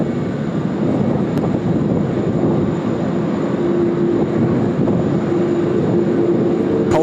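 Airliner in Sonic the Hedgehog livery landing at Sydney Airport in strong wind, a continuous broad jet roar with gusty wind noise, fairly loud and sustained, with a faint tonal whine rising partway through.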